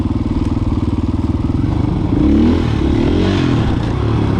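A motorcycle on a back road revs hard as the rider tries a wheelie through an S-curve, the engine droning loud and close with a rising, pulsing tone.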